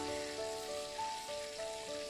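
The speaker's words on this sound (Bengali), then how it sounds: "প্রথমে একটু আলুগুলোকে ভেজে নেব" Potatoes frying in oil, a steady soft sizzle and crackle, faint and continuous, with a thin background tone running beneath and no talking.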